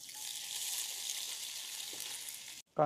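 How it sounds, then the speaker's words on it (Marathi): Chopped onion with whole spices (cumin, cinnamon, black pepper, cloves, cardamom, bay leaf) frying in oil gives a steady, dense sizzle for most of the time, then breaks off abruptly near the end into a short burst of speech. "आपण फ्राय करून घेऊ व्यवस्थित। जास्त पण फ्राय नाही करायचं, हलका ब्राऊन होतो आपण फ्राय करू।"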